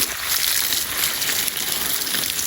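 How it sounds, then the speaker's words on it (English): Garden hose spraying water onto container plants: a steady hissing, splashing gush running continuously at close range, with no talking. "And then I use the hose to give the bigger plants water."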